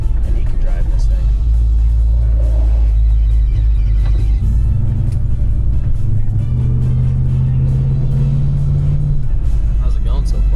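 A restored 1970 Monte Carlo muscle car drives along with a steady, loud low engine rumble throughout, its pitch rising in the second half as it pulls, while people talk over it.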